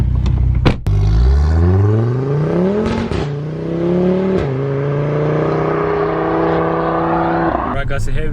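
A 516 bhp Audi RS3 pulls away hard, its engine note climbing loud and close through several rising sweeps, with brief dips at each gear change before settling into a steady cruising drone.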